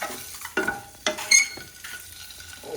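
Cut boiled eggs frying in a pan with salt and chili powder masala, heard as soft sizzling with intermittent stirring scrapes and light utensil clinks, close and fairly quiet, no talking.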